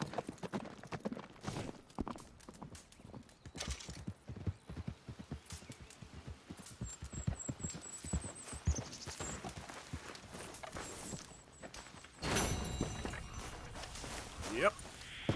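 Horse hooves clip-clop in Red Dead Redemption 2, a steady walking rhythm of close hoof strikes with occasional jingling tack, while people talk over them and a louder rushing burst comes late.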